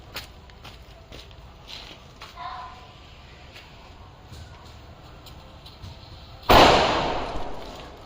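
A firecracker bursts during cracker testing outdoors, a single sharp loud bang near the end after quiet rustling and faint movement.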